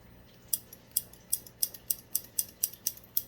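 Spring-loaded aquarium tweezers snapping shut with a clicky mechanism, about a dozen crisp, evenly spaced clicks in quick succession, close and fairly quiet against a faint background hum.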